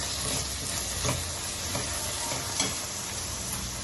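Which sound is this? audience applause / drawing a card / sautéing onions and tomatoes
sautéing onions and tomatoes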